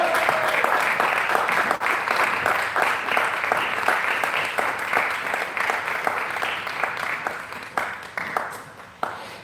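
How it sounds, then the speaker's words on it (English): An audience at a youth-division panel discussion in South Carolina breaks into sustained, dense applause that stays loud and steady for several seconds, then thins into scattered claps and fades near the end. "Clap him up, clap him up."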